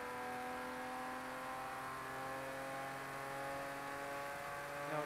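A race car engine in a racing video game drones at high revs in fourth gear, a steady, continuous whine with layered harmonic tones, loud and unbroken with no talking.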